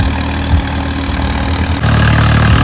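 A tractor running a rotavator in a paddy seedling field drones loudly and close, a steady low engine rumble that steps up slightly in pitch and intensity partway through.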